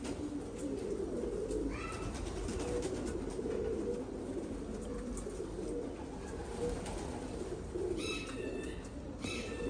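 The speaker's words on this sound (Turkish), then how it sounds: "Çok fazla kuş var." Pigeons coo in a crowded loft of many birds, a steady low murmur of cooing beneath a few sharper chirps, continuous and moderately loud with no talk.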